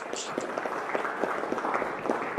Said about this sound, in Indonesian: Boleh kasih tepuk tangan untuk Ibu Mer